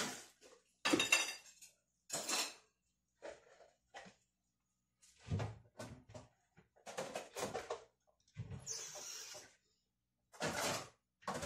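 Dishes, pots and cutlery clinking and clattering in a sink while being washed during household cleaning, close and irregular bursts of clanks and scrapes with running-water hiss and pauses between.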